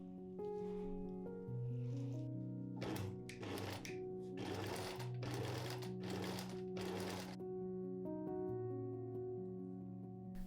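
A sewing machine runs a basting stitch on silk in several short bursts, its rapid whirring stitching rhythm rising and stopping repeatedly over steady background music.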